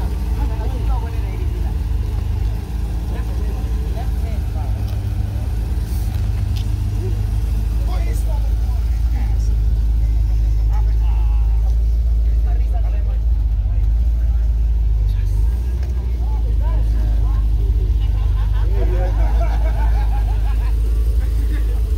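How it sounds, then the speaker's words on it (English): A Dodge Charger Hellcat at a night street race, its engine a steady, loud low rumble that runs throughout, heard from nearby amid crowd chatter and people talking. "Guys, this is a Dodge Charger."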